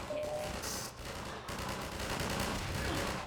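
Rapid automatic fire from turrets in Half-Life 2 rattles continuously amid laser fire at the Citadel, a steady loud burst of gunfire with a brief dip midway.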